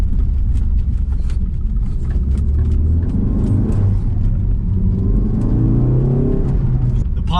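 A 2016 Ford Focus ST hot hatch accelerates hard along twisty roads, its engine droning loudly and steadily with rising and falling revs and continuous road rumble, no voices over it.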